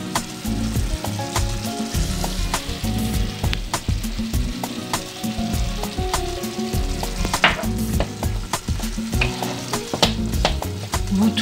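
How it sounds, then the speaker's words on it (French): A tomato sauce with parsley is stirred in a frying pan, with a continuous close sizzle and repeated spoon scrapes and clicks against the pan, and no voices. "Vous touillez bien, mélangez bien."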